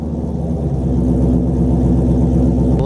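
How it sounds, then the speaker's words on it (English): A C6 Corvette engine idles with a steady, deep rumble and a regular low throb, loud and close, with no voices. "Let's turn the car on."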